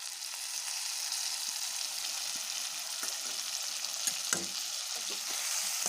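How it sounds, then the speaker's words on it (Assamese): Meat masala paste mixed with hot water, poured into a hot pan, sizzling and frying in a steady loud hiss with light scrapes of stirring throughout. "এতিয়া মই ইয়াতে ঢালি দিম মিট মছলা।"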